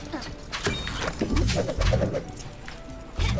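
Birds coo and chirp in the Super Lucky's Tale video game, pigeon-like calls repeating among clattering game effects and background music.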